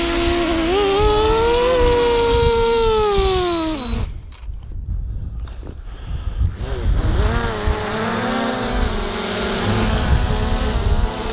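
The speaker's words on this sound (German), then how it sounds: "ich werde sie jetzt mit der Hand wieder fangen und danach starten wir dann die Mavic Air 2" A DJI Mini 2 drone's propellers whine with rising and falling pitch close by, cut off by handling noise as it is hand-caught, then a Mavic Air 2 spins up with a buzzing motor whine.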